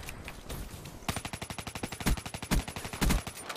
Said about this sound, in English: That shooting, though.